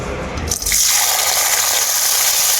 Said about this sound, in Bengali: তো ছোলার ডালটা এখন আমি ভেজে নেব প্রথমে